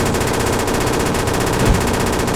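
An M249 machine gun fires in a video game, a dense sustained burst of rapid shots that runs loud and unbroken through the whole stretch, with no voices.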